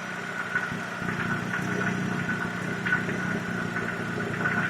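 A rebuilt VW Corrado G60 engine, a 1.8-litre top end on a 2-litre bottom end, idles slightly high with a steady, close mid-pitched hum and faint knocking vibration throughout, no voices.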